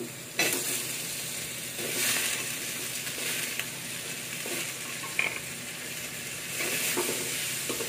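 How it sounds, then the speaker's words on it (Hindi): Potato pieces fry in a pan, with a steady close sizzle and hiss and a few louder bursts as they are stirred or tossed, no talking. "सबसे पहले तो आलू को थोड़ी देर फ्राई कर लेते हैं"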